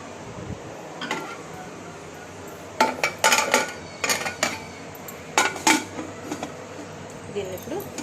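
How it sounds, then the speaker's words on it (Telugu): A bowl of meat bones is set into a pressure cooker with metallic clanks and clinks of vessels, several sharp knocks in two clusters over a quiet kitchen background, close by. "ఇవన్నీ ఇట్లా బోన్స్ అన్ని గిన్నెలో వేసేసుకుని ఈ కుక్కర్లో పెట్టేసుకుందాం."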